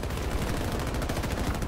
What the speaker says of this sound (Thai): ยิงกันแบบดูเดือดเลือดพ่าน